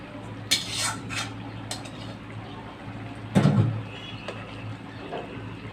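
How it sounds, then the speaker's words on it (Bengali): Clanking of a pan and utensils as cooked curry is poured out of a kadai at home, with a few sharp metallic scrapes and knocks over a low background hum; no one speaks. "তরকারিটা ঢেলে নেব।"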